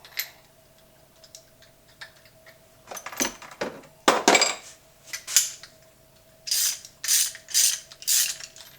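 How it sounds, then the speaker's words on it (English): A wrench clicks and ratchets against a coax connector on a PVC antenna mast, sounding as close, dry metallic taps and scrapes that turn into a run of quicker, brighter ratcheting clicks over a faint steady hum. "So we'll have to stick a wrench up in there to get."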